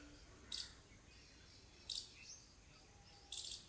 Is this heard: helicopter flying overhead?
no